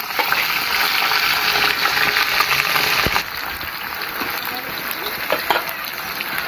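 Potatoes frying in a hot pan of oil for a Bengali vegetable curry, a loud steady sizzling hiss that eases slightly midway and carries on with small crackles, close up and without talk.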